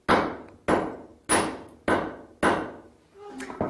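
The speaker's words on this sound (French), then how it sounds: "c'est avec ce vieux marteau-là que l'on va l'affiner" An old hammer beating a silver rod, made from an ingot, in traditional Miao jewellery work: five loud ringing metallic blows at a steady pace, each decaying, then softer clatter.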